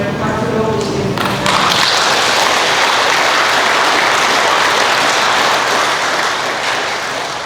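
A church audience applauds to welcome a priest for a Bible lecture, dense clapping that swells within the first second and holds steady, loud and close, tapering slightly at the end.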